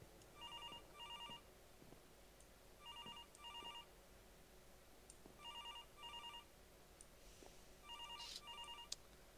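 Telephone ringing in a Minecraft horror map game, a repeated double-burst bell pattern in four clear ring cycles, moderately loud over a faint background hum with no talking.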